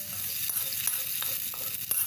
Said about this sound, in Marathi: फोडणी झाली आहे तयार छान खमंग। ती आता आपण याच्यावर घालूया त्या मिश्रणावर